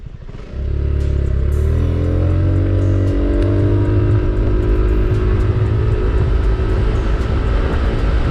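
A BMW C 400 GT scooter cruising at a steady pace, its engine giving a continuous, even drone mixed with wind rush that rises slightly at the start and then holds at a constant loud level throughout.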